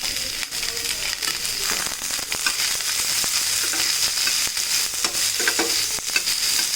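Onions and finely chopped aromatics fry in a pan for an egg and peas masala, sizzling steadily while a utensil stirs and scrapes at intervals, close up and with no speech.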